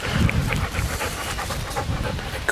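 Cody, a gun dog in training, pants rapidly and close by in a steady rhythm, with light wind noise behind.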